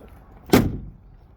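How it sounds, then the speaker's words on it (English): The steel door of a 1970 Ford Torino fastback is swung shut with one solid, close thud that fades quickly into quiet surroundings. "Same, I got this door open. Let me close it up."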